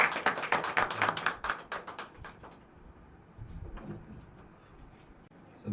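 A church congregation claps loudly in quick, sharp bursts for about two seconds, then the applause thins out to a few scattered claps under quiet room noise.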